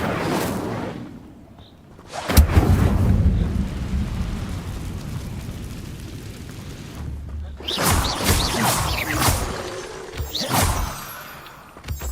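Casting the Incendio fire spell in Hogwarts Legacy unleashes a loud, roaring whoosh of flame that rumbles for several seconds, followed later by another crackling, rushing burst of fire.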